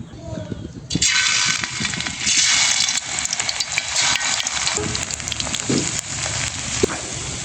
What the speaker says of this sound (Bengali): এবার গরম তেলের মধ্যে ভেজে নেব।